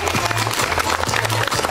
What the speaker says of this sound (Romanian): merită și el multe, multe aplauze